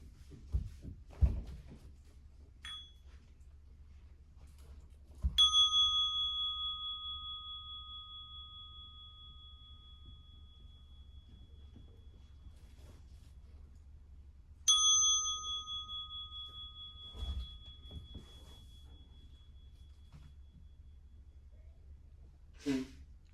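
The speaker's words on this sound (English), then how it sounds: "I'm going to start with 3 sounds of the bell" A meditation bell gets a light tap, then two full strikes, each ringing out long and pure before slowly fading into a quiet room with faint breathing.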